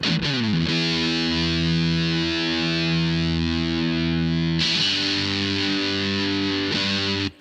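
Thick, saturated fuzz from a Glutty Deluxe pedal with a germanium diode, played through a Fender amp: a loud sustained distorted chord rings out, then a second strummed chord takes over and holds, with no talking.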